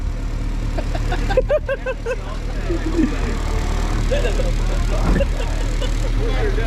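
A Honda CRX with a 1.5-liter single-cam engine idles steadily while warming up, a low constant hum running throughout, with a car radio and brief voices over it.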